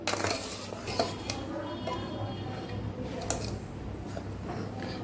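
Thick mango chundo sugar syrup being stirred in a pan over a gas flame, with steady scraping and occasional light metallic clinks of a spoon against the pan, mid-level and continuous throughout.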